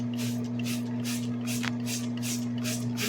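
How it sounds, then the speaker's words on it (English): A spray bottle mists a finishing touch onto a joke blueberry soup in a kitchen, giving a rapid, steady run of short hissing bursts against a constant low hum. "Finishing touch spray."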